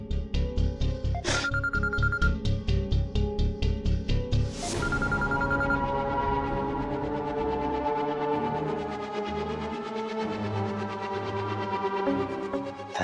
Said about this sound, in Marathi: चार दिवसांनी फोन सुरू केला आणि सुजित सरांचाच पहिला कॉल आलाय